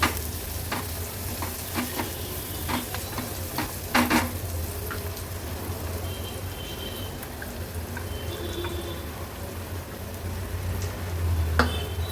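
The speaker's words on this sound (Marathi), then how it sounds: "हळद कांद्यामध्ये व्यवस्थित आपल्याला परतून घ्यायची आहे" Onions with turmeric sizzle gently in a pan while being stirred, a constant frying hiss under scattered spoon clicks and scrapes, close by and fairly steady.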